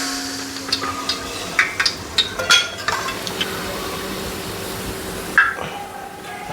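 Fried onions and biryani ingredients sizzle steadily in hot oil in a kadai, with a constant frying hiss under repeated scraping and clinking strokes of a metal spoon stirring against the pan.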